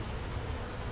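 Honey bees buzz inside a hive box full of honey, a dense, steady droning hum that fills the whole second, close and moderately loud.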